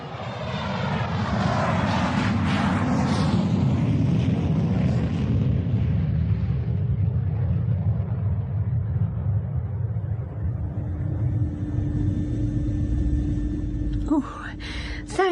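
A British Airways passenger jet taking off for Dusseldorf, its engines roaring loud and close before the thunderous rumble slowly recedes, followed by a brief thump and faint clatter near the end.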